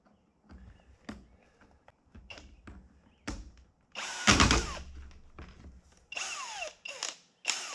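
A power drill runs in reverse to back out a screw, heard as several short whirring bursts separated by pauses, with one longer, louder spin midway and more quick bursts toward the end.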